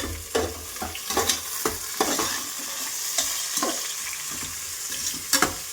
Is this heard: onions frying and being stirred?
yes